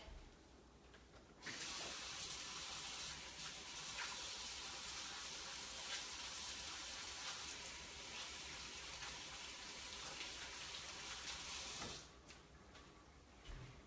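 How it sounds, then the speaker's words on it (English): Hands are washed under a running kitchen tap, a steady, fairly loud hiss of splashing water that starts after a brief pause and runs for about ten seconds before cutting back down. "Wash up my hands really quick."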